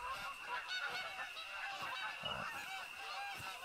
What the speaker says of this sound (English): Oh my god, a million billion geese.